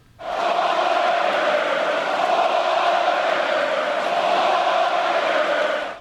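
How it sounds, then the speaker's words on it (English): Recorded crowd of Warriors fans cheering in unison, a dense, steady roar that holds at full loudness for several seconds before cutting off abruptly. "that being the Warriors cheer. Now, first, let's hear it"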